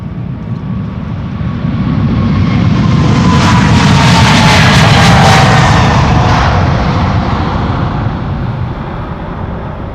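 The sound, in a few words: KLM Boeing 777-300ER jet aircraft engines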